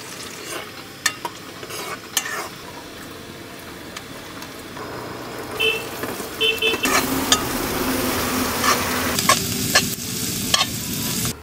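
Onions sizzle and fry in a pan, cooked on a roadside stop during a trip, with steady crackling, occasional scraping stir strokes and clinks that grow busier and louder in the second half, and no talking.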